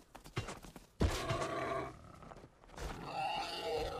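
An aggressive boar attacks in the survival game Rust, giving off loud grunting, roaring squeals in rough bursts, with a sharp onset partway through and continuing snarls close by.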